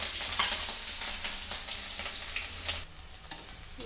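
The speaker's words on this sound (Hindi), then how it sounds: "इधर मेरा आलू फ्राई हो गया है, अब इसमें प्याज मिर्ची डालेंगे।" Fried potatoes sizzle in hot oil as onion and chili go in, a close, busy crackle broken by stirring scrapes and a few sharp pops.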